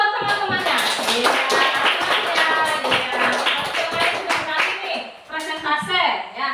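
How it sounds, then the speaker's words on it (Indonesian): Students in a classroom clap together for classmates after a group presentation, quick close claps with children's voices and a teacher talking over them. "tepuk tangan dulu buat teman-temannya"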